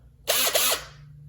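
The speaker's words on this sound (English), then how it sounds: "All right, so then you just drill it from the other side." A drill bit boring through the base plate of a rotten 1971 Stage 1 Quadrajet carburetor gives a single loud, harsh grinding burst of about half a second, then drops back to a quiet hum.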